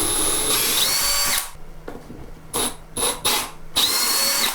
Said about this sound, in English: they will finalize the location of which they will be drilling their holes for the 3 clips